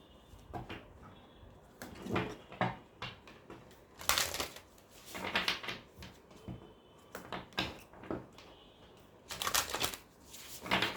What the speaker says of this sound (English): let me pull some oracle cards for you